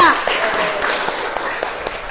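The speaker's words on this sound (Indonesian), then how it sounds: "tepuk tangan untuk Kamila" Classroom of students clapping for a classmate, a dense, fairly loud patter of many hands that continues steadily throughout, with voices mixed in underneath.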